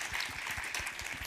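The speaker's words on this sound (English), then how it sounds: "Give her an applause." Audience clapping at a recorded event as a participant named Francesca is introduced, a short steady patter of many hands filling the whole moment without voices.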